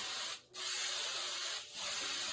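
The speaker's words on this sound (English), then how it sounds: "so you can just spray a bit at the bottom as well" Two hissing bursts from a spray paint can, each lasting about a second with a brief pause between them, close by.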